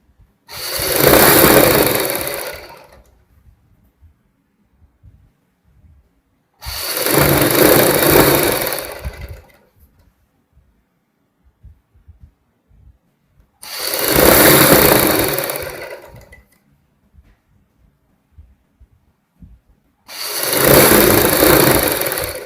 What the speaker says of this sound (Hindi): ये मैंने आधा इंच की सिलाई कंप्लीट की है।